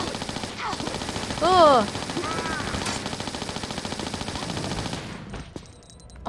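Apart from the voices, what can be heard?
Uzi gunfire in the video game Tomb Raider: Chronicles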